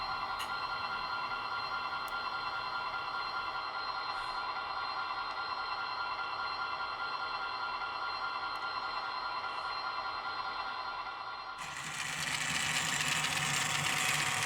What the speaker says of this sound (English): you can probably hear the motor driving the abrasive pad